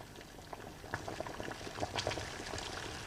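Water boils in a pot for pasta, giving a steady bubbling and popping roil with scattered sharper bursts, close and moderately quiet, with no voices.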